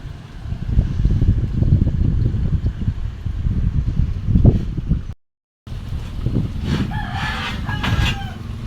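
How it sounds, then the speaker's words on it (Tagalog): Strong wind roars steadily around a terrace in the predawn hours during a power outage, a broad continuous rush with one brief dropout, while a rooster crows faintly near the end. "O, ang hangin po naugong."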